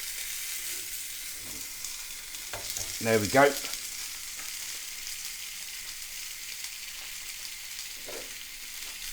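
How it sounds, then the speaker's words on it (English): Steady, crackling sizzle of food frying in butter in a hot pan, with a brief stir of movement and a short spoken remark partway through. "Nice little sizzle."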